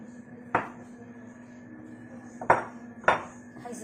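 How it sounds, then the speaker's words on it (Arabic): Dough for puffy Arabic flatbread being cut on a marble counter: three sharp, hard knocks, the first alone and the last two close together, over a low steady hum. "وهنبدا نقطع في العجينه بتاعتنا دي"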